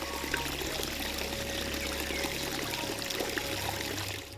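Water from a sacred grove spring in the Konkan region flows steadily, a continuous near rush and trickle with no breaks.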